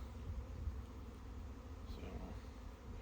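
A soft, steady buzz of many bees around a hive hums continuously, with an occasional single insect drifting close and away.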